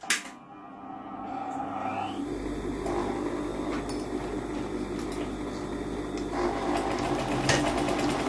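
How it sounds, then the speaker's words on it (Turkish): Sewing machine running steadily as it stitches elastic onto a fabric face mask, a continuous close whirring hum that starts after a brief pause and holds to the end. "Bu şekilde şimdi dikişini gerçekleştireceğim."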